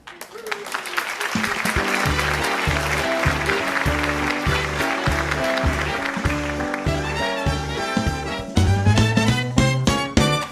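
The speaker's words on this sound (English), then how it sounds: "let's have a warm round of applause for Franklin C. Stiff." A warm round of applause rises at a cooking show event, a dense steady clatter of clapping layered over a rhythmic music track with a thumping beat, carrying on for several seconds before the music swells louder near the end.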